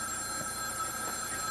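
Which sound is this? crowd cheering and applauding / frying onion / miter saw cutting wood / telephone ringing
telephone ringing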